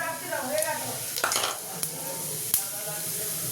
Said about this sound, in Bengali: এবার এর মধ্যে এই যে গোটা গরম মশলা জিরে ফোড়ন দিয়ে দিলাম